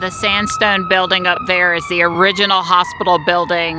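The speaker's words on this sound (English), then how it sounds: "Sorry for the siren" An emergency vehicle siren wails outside a window near a hospital, a steady tone running faintly beneath a person speaking close by.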